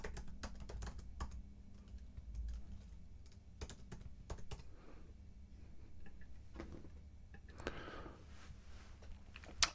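Quiet tapping on a computer keyboard while an email address is entered, with irregular light key clicks in short bursts and small pauses between them, close and alone.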